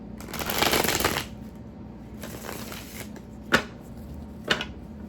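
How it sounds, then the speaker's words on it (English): A tarot deck riffled and shuffled in two long rustling bursts, followed by two sharp taps as the cards are squared, close and alone. "That was a very sloppy shuffle."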